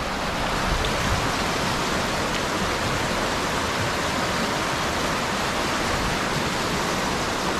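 Dhanagar waterfall at Badlapur pours in a steady, dense roar of rushing water, loud and unbroken throughout with no voices.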